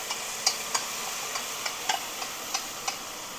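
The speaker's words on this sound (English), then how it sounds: "I'm going to put this slurry, this curry slurry in here, and let it cook up" Curry slurry cooking in a pot, a steady low sizzle with scattered faint ticks and pops over a constant hiss, close and fairly quiet, with no voices.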